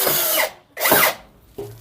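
A power drill bores a hole in a bathroom soap holder during a fixture installation, running in three close, loud bursts separated by short pauses, with the last burst brief.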